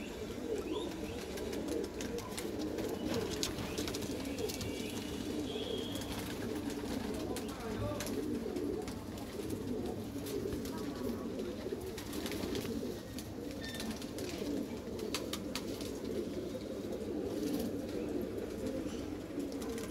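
Soft Madrasi pigeon cooing repeats steadily among a busy flock, with occasional chirps and wing flutters over a constant background murmur.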